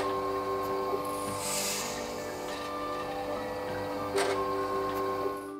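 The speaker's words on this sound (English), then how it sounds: "a plate washer is used to wash the plate and prepare it for additional" A laboratory plate washer cleaning an ELISA plate gives a steady mechanical whir with a tonal hum and a couple of brief louder pulses, heard close with no talking.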